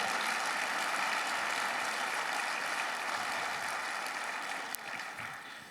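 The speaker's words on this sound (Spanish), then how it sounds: "Dale un aplauso al Señor." A church congregation applauding during a Spanish-language sermon, a dense, loud wash of many hands clapping together that carries evenly and tapers slightly at the end.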